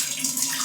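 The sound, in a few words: water running from kitchen pipe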